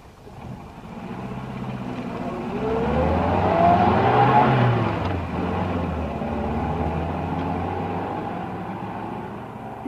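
A car engine revs up and pulls away in a radio-drama street scene, the rising drone peaking midway before settling into a steady cruising rumble, heard alone without voices.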